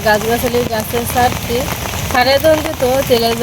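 Steady heavy rainfall makes a dense, continuous wash under close, animated speech from a person talking in bursts.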